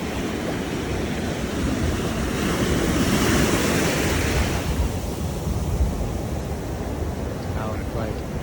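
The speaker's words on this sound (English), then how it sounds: "Time to go in the ocean." Surf rolls in at a beach, a broad steady rush of breaking ocean waves with wind buffeting the microphone, swelling louder midway and then easing off.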